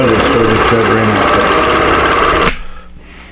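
A computerized quilting sewing machine hums and stitches steadily at a loud, close level, then stops abruptly near the end, leaving a faint residual hum.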